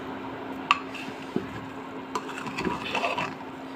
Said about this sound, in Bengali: আবারও ঢাকনাটা উঠিয়ে একটু নাড়াচাড়া করে দিতে হবে।